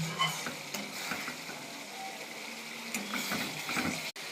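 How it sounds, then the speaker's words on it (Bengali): An egg and soybean curry is stirred and fried in oil, a soft continuous sizzle with scraping and spatula clinks against the pan, heard close and fairly quiet. "দেখো, ভালো করে কষাচ্ছি।"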